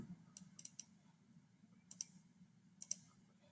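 Computer mouse buttons clicked in quick pairs, three sharp faint double clicks spaced about a second apart over a quiet low hum, no speech.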